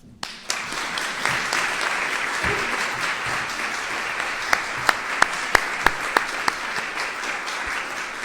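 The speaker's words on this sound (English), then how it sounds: "I'm going to have them lead us in a round of applause to the donors who have given you this opportunity" A sustained round of applause from a seated audience at a scholarship luncheon honoring donors, steady dense clapping for several seconds with a few sharper individual claps standing out near the end.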